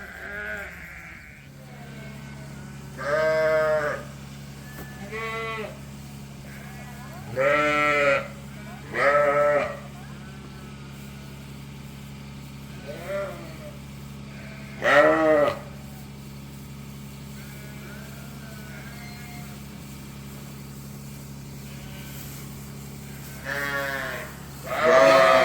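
Sheep bleat on a farm in repeated separate calls spread across the stretch, some close and loud, others fainter, over a steady low engine-like hum.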